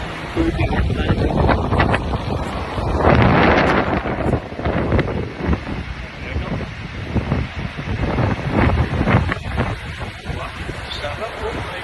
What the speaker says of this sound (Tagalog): Madagundong tubig at tayo.